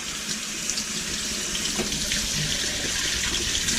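Cattleya orchid roots rinsed under a running tap, a steady close hiss and splash of water into a sink filling the whole stretch with no talk.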